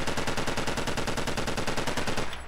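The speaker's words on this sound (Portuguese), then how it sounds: "Ela vai substituir pela metralhadorinha lá do Pierce, da campanha do Resident Evil 6" Piers Nivans' machine gun from Resident Evil 6, swapped into Resident Evil 4 through a mod, fires one steady, rapid, loud automatic burst of about two and a half seconds that cuts off sharply at the end, with no voices.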